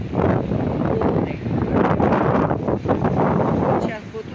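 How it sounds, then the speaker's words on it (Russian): Strong wind buffeting the microphone on a beach at Sukko, with waves nearby: gusty, loud rumbling bursts rise and fall across the whole stretch, mixed with someone talking. "Вот сейчас вот усилился, да, ветер."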